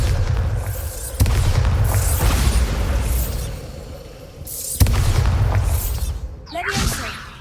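A Bombarda explosion spell in Hogwarts Legacy goes off as a heavy booming blast. A second boom follows a few seconds later, each with rumbling debris and crackle, mixed with game sound effects.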